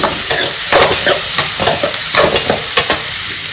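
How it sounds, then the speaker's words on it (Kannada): Onions frying in a pan for momos, a loud close sizzle broken by repeated rhythmic spatula scrapes and stirring strokes, with no speech. "ಫಸ್ಟ್ ಈರುಳ್ಳಿನ ಚೆನ್ನಾಗಿ ಫ್ರೈ ಮಾಡ್ಕೊಬೇಕು"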